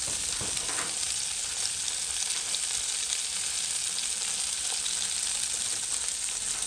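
Shallots frying with seared brisket in a Dutch pot give off a steady, dense sizzle that stays even and fairly loud throughout, with no stirring accents and no talking.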